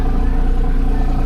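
A Porsche Carrera 4S engine rumbles low and steady, close by, in a brief burst with a slight rough texture as the car pulls away.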